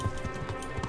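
A war horse's hooves clip-clop at a quick gallop in the medieval video game Kingdom Come: Deliverance, each hoof strike a dull, close thud in rapid, steady rhythm.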